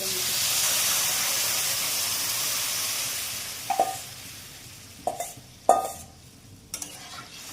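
Lentils hit a hot pan of partly fried ridge gourd with a loud, steady hiss of steam that slowly fades, then a few sharp metallic utensil clinks ring out close by.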